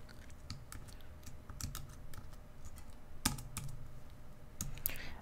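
Keys clatter on a computer keyboard at close range, with irregular quiet taps and a few sharper strokes over a faint background hum.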